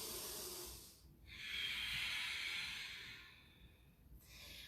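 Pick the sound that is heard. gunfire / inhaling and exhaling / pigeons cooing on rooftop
inhaling and exhaling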